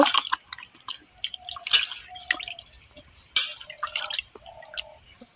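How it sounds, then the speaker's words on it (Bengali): Peeled bottle gourd gets rubbed and rinsed in a bowl of water, giving irregular close drips, splashes and squishy sloshing sounds with no talking. "এই জলে ধুয়ে নিচ্ছি, ভালো করে রগড়ে ধুয়ে নেব"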